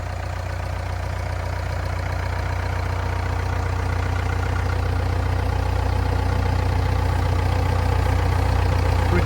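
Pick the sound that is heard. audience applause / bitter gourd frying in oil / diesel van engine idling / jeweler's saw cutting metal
diesel van engine idling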